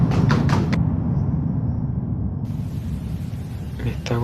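Knocking on an apartment door on a second floor, a quick burst of several sharp raps, then quiet, then a couple more knocks near the end, over a low background rumble.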